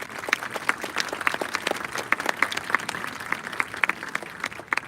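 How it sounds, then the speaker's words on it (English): Scattered audience applause at a National Honor Society induction ceremony, individual claps clearly separable in a moderately sized room, fairly soft and uneven throughout. "So a round of applause, please."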